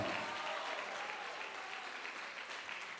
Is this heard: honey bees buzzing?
no